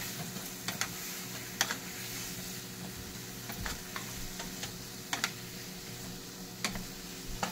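Potatoes sauté with salt for aloo dum under a soft, low sizzle, broken by sharp, irregular clicks and scrapes of a spatula stirring the pan up close.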